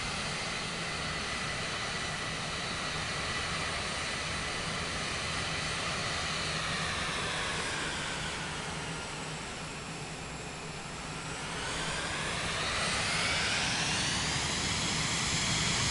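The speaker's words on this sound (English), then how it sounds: "Let's hit the reversers." Jet airliner thrust reversers in Microsoft Flight Simulator 2024 make a sustained roaring engine whine that dips in pitch mid-way and then swells again, steady and alone without voices.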